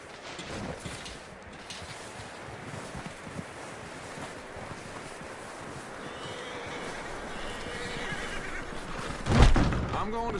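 Horses whinny and neigh in the Red Dead Redemption 2 game over windy outdoor ambience and faint hoof clops, building to a louder close snort near the end, with voices talking underneath.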